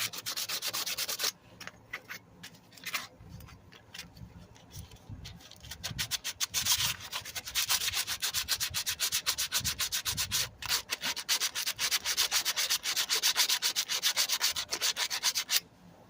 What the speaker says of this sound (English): Sandpaper really helps with the media improvements.